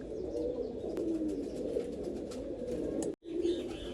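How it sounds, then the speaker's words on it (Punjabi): Pigeons coo steadily in soft, low, throaty rolls, close by and continuous, with a brief pause near the end before the cooing resumes. "ਆਹ ਬਾਈ ਜੀ ਆਪਣਾ ਮੁਕੰਮਲ ਸੀਗਾ ਕਬੂਤਰ"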